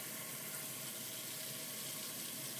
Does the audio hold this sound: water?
yes